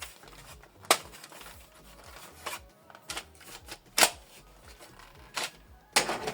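Plastic paper tray of a Canon Maxify MB2150 printer being pushed and extended, a series of sharp clicks and snaps spaced irregularly over soft handling rustle.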